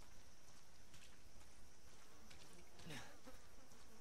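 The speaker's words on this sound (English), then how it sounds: "a bunch of mosquitoes" Thin insect buzzing drifts through quiet woods in the horror game Resident Evil 7, a faint steady whine of mosquitoes over low ambient hiss, with one brief louder swoop passing close near the middle.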